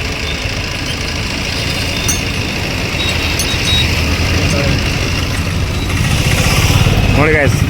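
Maruti Swift car engine after a service, revving up over a steady running rumble, loud and close, with a rising rev toward the end and a voice speaking over it.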